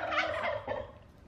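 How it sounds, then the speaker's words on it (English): Close, loud turkey gobbling at feeding time in a farmyard pen, a rapid warbling gobble that rises and then tapers off over about a second, with no talk over it. "Gobble, gobble, gobble."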